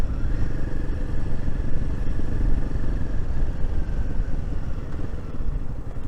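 A Royal Enfield Himalayan 450 motorcycle engine runs steadily at low town speed, a close, even mid-pitched throb with light mechanical clatter and no talk over it.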